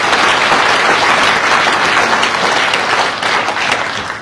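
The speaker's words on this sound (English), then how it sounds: "give him a round of applause." A lecture audience on a New Zealand speaking tour gives a loud, dense round of applause that holds steady throughout.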